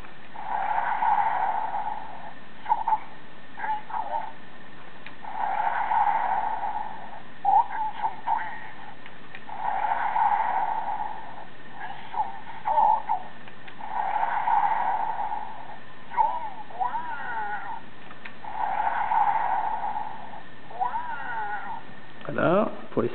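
A DX Seiku-Oh Go-onger transforming robot toy plays a run of electronic button sound effects, a series of bright chirping bursts repeating at steady intervals through a small speaker, with a voice talking between them.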